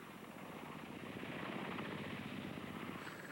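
A Cheyenne attack helicopter with a pusher propeller rises from behind a hill, giving a steady, loud rotor and engine roar with a fast, even chop that holds constant throughout and has no voices over it.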